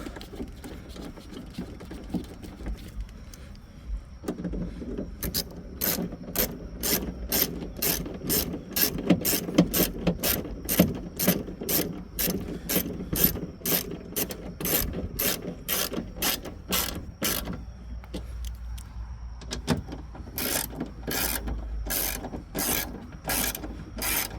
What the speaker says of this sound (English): I got to make sure the window opens and closes